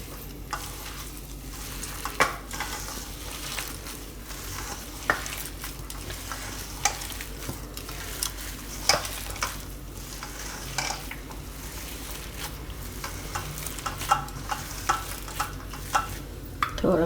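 Puffed rice mixture stirred in hot oil in a pan, a steady sizzle broken by irregular scraping strokes of the spoon throughout, close and moderately loud with no talking.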